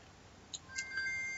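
A telephone gives faint electronic beeps: two quick chirps, then a thin sustained tone that fades, quiet against a low background hum.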